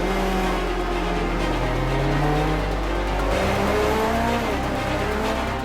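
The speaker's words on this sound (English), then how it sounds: "The slightest touch on the throttle and it revs up real sharp." A classic Formula One race car engine revs sharply on light throttle, close and loud, its pitch sweeping up and down in quick rising whines over a harsh buzzing roar.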